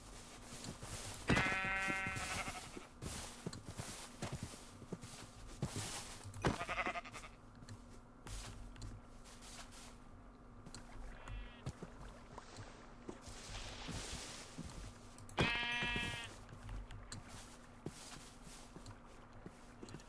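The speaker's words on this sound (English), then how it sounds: "So many brown sheep." Sheep in Minecraft bleat in short wavering calls, three or four spaced across a quiet stretch over low ambient background hum, fairly faint and alone.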